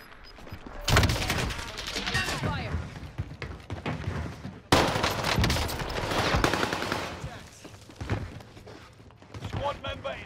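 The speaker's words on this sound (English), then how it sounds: "So I pull out the Kar98k, we get a few shots off, and we get the whole entire team wiped" Rifle fire in the Warzone video game, including Kar98k sniper shots: loud, dense bursts of gunfire with heavy thumps that swell, break off abruptly near the middle, then resume and fade toward the end.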